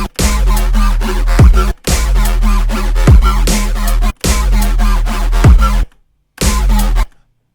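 A Serum synth patch with an EQ low cut applied plays alone in loud repeated phrases with a deep sustained bass, broken by a short silence near the end.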